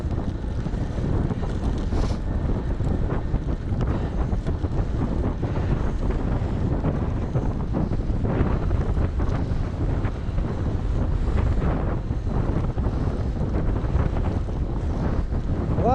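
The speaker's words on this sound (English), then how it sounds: "Wow, that wind's strong." Strong wind roars steadily over the microphone for the whole stretch during an electric bike ride through flooded roads from Morecambe to Glasson Dock, with loud continuous buffeting and no voices.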